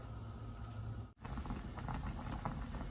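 Pork skin simmering skin-side down in a pot of water for crispy pork gives a steady, soft bubbling hiss, continuous and close, with one brief dropout partway through.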